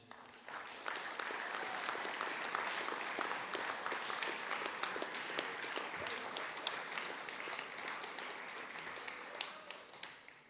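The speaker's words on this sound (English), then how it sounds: "Please put a round of applause together for our team, donors, and families who have helped out this year." Sustained, dense applause from a school athletic assembly crowd cheering a climbing team, donors and families, a steady, even wash of clapping that fills the whole stretch without letting up.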